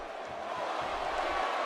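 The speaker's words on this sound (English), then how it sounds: "You see that front, second and third row just booing the life out of her" Arena crowd in WWE 2K17 booing a wrestler, a steady dense roar of many voices holding at one level throughout.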